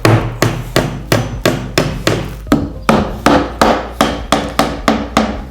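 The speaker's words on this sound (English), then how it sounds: "so we're going to nail this" Hammer driving a nail into OSB roof sheathing, about fifteen sharp, evenly spaced blows in a steady rhythm, loud and close with no talking.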